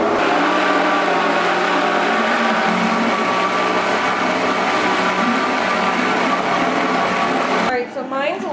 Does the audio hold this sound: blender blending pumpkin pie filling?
yes